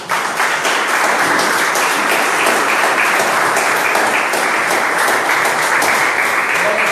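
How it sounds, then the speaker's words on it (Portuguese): A church congregation claps for Jesus during a sermon, a loud, sustained wash of many hands that keeps an even intensity throughout. "Vamos aplaudir o Senhor Jesus?"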